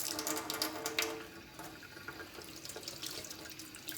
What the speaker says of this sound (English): now I actually just hit them with a little bit of cold water.